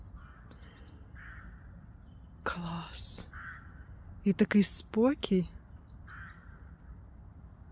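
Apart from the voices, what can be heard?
birds calling and crows cawing on a quiet autumn morning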